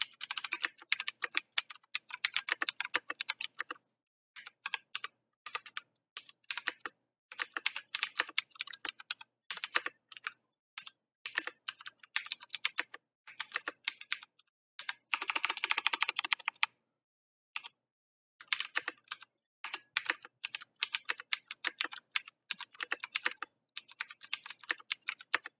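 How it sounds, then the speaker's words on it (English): Fast, clattery keystrokes on a Razer BlackWidow Ultimate 2014 mechanical keyboard rattle in quick bursts separated by short pauses, close and crisp, with no talking. "Now we're going to do the sound test for the Razer BlackWidow 2014 edition."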